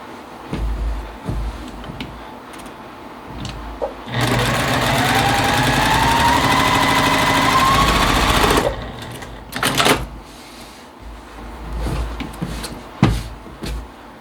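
A sewing machine chain piecing a quarter-inch seam on a nine-patch quilt block runs in one loud, continuous burst of about four seconds, framed by quieter handling clicks and taps of fabric before and after.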